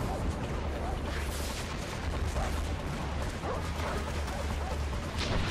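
Mortar fire in the video game Far Cry 4: repeated booming blasts and rumbling impacts at steady loudness, with a voice talking at times.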